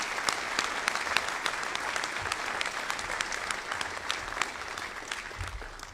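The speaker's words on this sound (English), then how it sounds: "if you could please give us a round of applause for the team that was behind all those awards" Sustained audience applause at a U.S. 7th Fleet change of command ceremony, a steady wash of many hands clapping throughout, moderately distant and even in level, with no talking over it.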